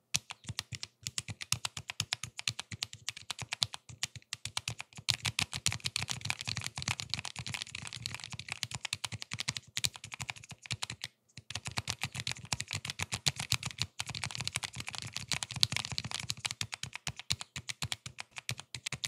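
Fast, continuous typing on a mechanical keyboard fitted with Red Pro switches: dense, crisp clicks up close, broken by a brief pause partway through, with no voice.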